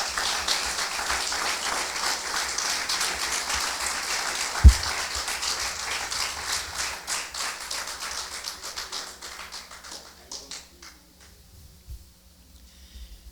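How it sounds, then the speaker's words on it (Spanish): A church congregation claps for the Lord during a sermon, a broad wash of many hands that starts strong, then thins and fades over several seconds into near silence, with one sharp knock partway through. "Dale un aplauso al Señor, hombre."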